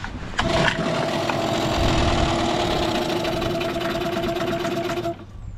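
Tohatsu M8B 8hp two-stroke outboard engine running steadily after a choked start, a loud, buzzy, continuous drone with a rapid rattling pulse that holds for about five seconds before cutting back.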